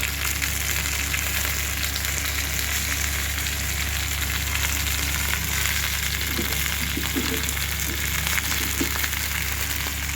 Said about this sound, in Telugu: ఆయిల్ వేసి మనం టమాటాలు మగ్గించుకుందాము